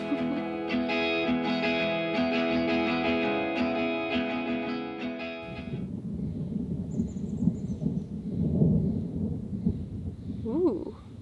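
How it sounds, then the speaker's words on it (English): Low rumbling thunder rolls in after a steady tonal hum fades, a long deep grumble with swelling peaks, fairly distant and heard alone. "Ooh, thunder."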